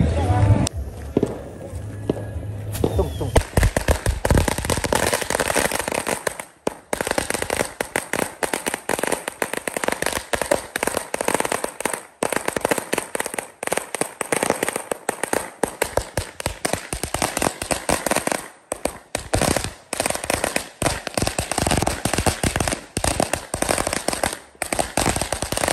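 A long firecracker roll bursts on a road during Diwali, rattling off loud rapid-fire pops for over twenty seconds in a dense, crackling stream, with voices heard at the start.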